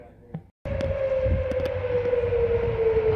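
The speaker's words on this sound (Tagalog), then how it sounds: "That's the siren." A civil defense tornado warning siren sounding in the Plano area, starting abruptly after a brief pause and holding a loud, steady wailing tone with a slowly falling pitch, with faint voices and background noise beneath it.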